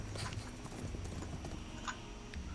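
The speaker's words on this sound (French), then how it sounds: "je vais ralentir un peu les chevaux là" Horse hooves clip-clop steadily and close for a tabletop role-playing game (Dungeons & Dragons, Lost Mine of Phandelver) as the horses slow, a continuous rhythmic trotting bed with no talk over it.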